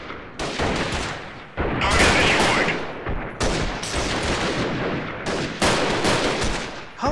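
Rapid pistol shots in a PC shooter video game, loud sharp cracks fired in quick clusters separated by short pauses, with no talk over them.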